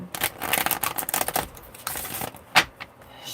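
Mermaid tarot cards are shuffled by hand, giving rapid papery riffles and flutters in quick irregular bursts close to the listener, followed by a few softer taps and slides.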